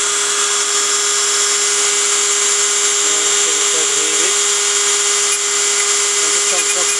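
A lathe turns a plastic locomotive chimney, giving a steady high-pitched whine with a constant tone throughout and faint shifts near the middle, loud and close.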